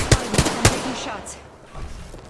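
Three sharp, loud gunshots crack in quick succession in the Apex Legends video game, followed by a quieter stretch with faint background game sounds.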